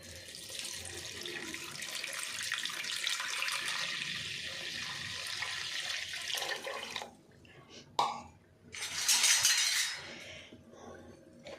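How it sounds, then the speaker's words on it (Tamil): Tamarind water pours into a pot of fish curry with a steady splashing stream, then falls quiet before a spoon scrapes and stirs the pot in short bursts. "இந்த புளி கரைச்ச தண்ணி இருக்குது பார்த்திங்களா, அதை ஊற்றிடுவோம்."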